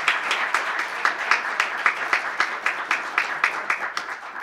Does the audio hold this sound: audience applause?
yes